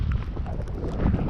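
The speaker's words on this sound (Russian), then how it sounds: "Мало того, что снегопад, еще и ветрище." Strong wind buffets the microphone on winter ice during snowfall, a loud, continuous low rumble with gusty surges throughout the short stretch.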